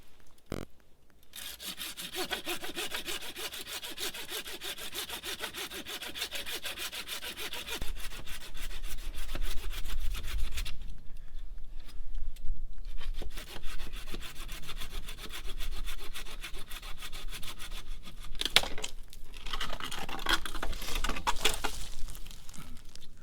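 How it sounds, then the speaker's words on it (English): A Colin's folding saw cuts through fatwood, a resinous reddish pine wood, with steady back-and-forth rasping strokes. A short pause midway is followed by more close, loud sawing, with no talking. "The tool that I'm going to be using is my Colin's folding saw here. So let's cut into this thing."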